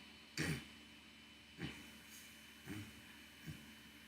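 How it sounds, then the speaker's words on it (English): A man coughs and clears his throat four times, one sharp, louder hack followed by three shorter, fainter coughs spaced about a second apart, close to the microphone against a quiet background. "Sorry for coughing so much."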